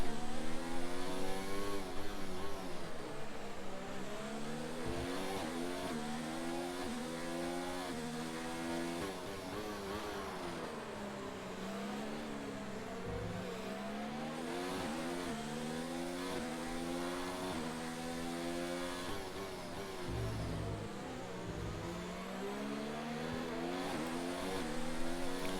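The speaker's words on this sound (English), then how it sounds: "As you now see at the front, Cossie now leads the field away." Race cars lapping a track in an online racing game at the Azerbaijan Grand Prix, engines droning loudly and continuously with shifting pitch as several cars run close together, with no talk over them.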